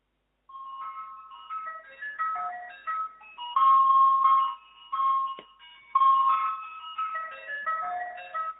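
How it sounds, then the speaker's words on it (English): An ice cream truck plays its tinkling electronic jingle, a bright repeating melody ringing loud and clear, with no voices over it. "Is that an ice cream truck?"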